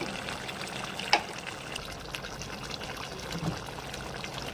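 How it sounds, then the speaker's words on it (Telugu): Water poured into a pan of chicken curry, a soft steady trickle under a faint bubbling background, with a brief clink of a vessel near the start. "కొంచెం వాటర్ యాడ్ చేసుకున్నామండి."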